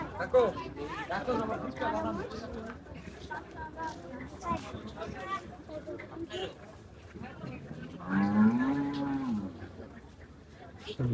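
Cattle at the Jalkuri cow market in Narayanganj, brought in for Qurbani, low and moo amid a crowd's steady chatter. One long, clear moo rises near the end.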